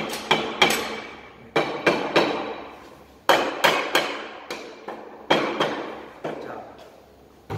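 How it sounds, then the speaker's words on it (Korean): A plastic or rubber mallet taps on a part glued with gasket bond, giving a series of sharp, close knocks in irregular pairs and singles, each ringing briefly before fading. "플라스틱이나 또는 고무망치 이용한다는 거"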